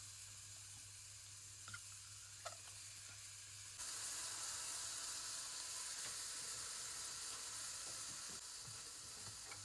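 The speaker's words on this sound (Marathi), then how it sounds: "आतां पयलीं हांव पियाव घालता हितून" Onions go into hot oil in a pan while a Goan cauliflower caldin curry is cooked. A faint background hum gives way to a sudden, steady, loud sizzle that continues with small crackles and no talk.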